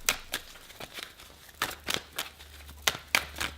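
Playing cards being shuffled nearby, a series of quick riffling bursts with brief pauses between them, fairly quiet.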